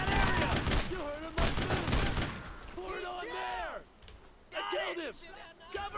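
Gunfire in the World War II video game Brothers in Arms: Road to Hill 30, rapid bursts of rifle and machine-gun shots in clusters, with a brief lull before a final volley, mixed with shouted voices.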